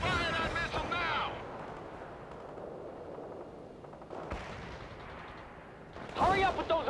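Gunfire from a Bradley fighting vehicle in the war video game World in Conflict, with bursts of shots at the start and again near the end, separated by a stretch of quieter battle noise.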